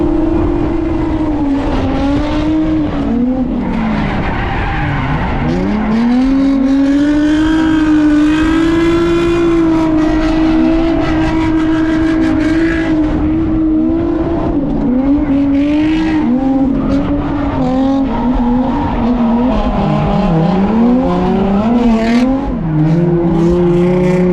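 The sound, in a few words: car racing laps at Ebisu circuit with tire squeal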